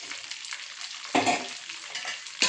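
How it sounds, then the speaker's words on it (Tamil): Onions frying in oil for a tamarind curry, a close crackling sizzle with a couple of louder bursts as the pan is stirred. "வெங்காயத்தை போட்டு நல்லா இது மாதிரி வதங்கிட்டோம்"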